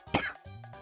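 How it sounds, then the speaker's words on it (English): A single sharp, close cough bursts out, followed by a short throaty rumble as the throat settles. "Sorry, cough."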